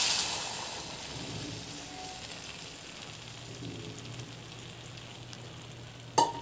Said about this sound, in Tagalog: At i-fry naman ang tusino.